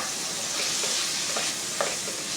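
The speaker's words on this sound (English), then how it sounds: "So we're going to let that saute together for a few more minutes." Peppers and onions sautéing with spices in a pan, a steady close sizzle with a few faint stirring scrapes, no voices over it.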